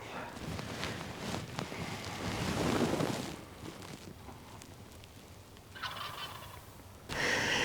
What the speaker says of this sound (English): He's strutting. He's gobbling.